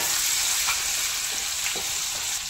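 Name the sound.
garlic, cumin and ginger paste frying in oil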